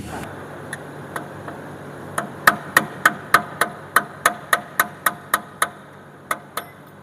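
Sharp metallic hammer strikes on a chisel removing a lower ball joint lock ring on a Toyota Vigo, a few sparse taps building into a steady run of about a dozen blows.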